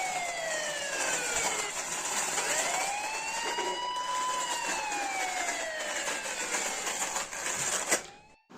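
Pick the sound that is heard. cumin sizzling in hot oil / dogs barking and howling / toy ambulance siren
toy ambulance siren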